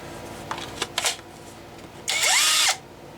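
A King Showden multi tool powered by an older Makita battery gives a few short clicks and brief buzzes, then one loud half-second burst of high whirring.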